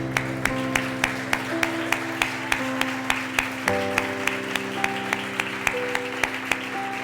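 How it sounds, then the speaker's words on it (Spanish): A church congregation claps in a steady, even rhythm, each clap sharp and regular, over sustained music and a quiet hum, moderately loud throughout. "Dele un aplauso al Señor."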